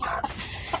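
Free-range chickens on a Filipino farm cluck in short bursts, moderately close, over a soft outdoor background with no talking.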